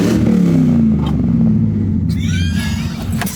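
A car engine in an LS-swapped Chevrolet S10 rumbles and revs up close, a loud continuous growl that rises and falls in pitch, with brief faint sounds over it near the end.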